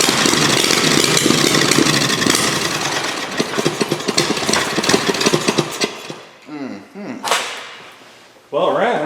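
A V-twin chopper motorcycle engine fires and runs loud and rough with uneven pulsing, then sputters and dies, followed by a few short revs and pops before stopping.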